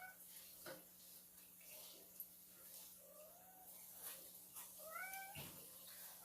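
Several meows from house cats at home sound at intervals, some drawn out and one quick pair near the end, with faint clinks and running water from dishwashing in the background.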